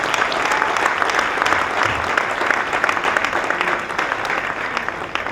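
Wedding guests clap steadily at a civil wedding evening reception in a hall. The applause is dense and continuous and stays at a loud, even level throughout, with some faint voices mixed in.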